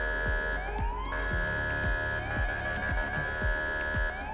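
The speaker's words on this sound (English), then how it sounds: "It kind of does like a little mixture of the sirens together, if you will, without you touching anything, which is kind of nice. It cycles it for you." Police sirens in GTA 5 cycle automatically through mixed wail and yelp patterns, loud and continuous, with repeated rising sweeps and layered electronic tones overlapping throughout.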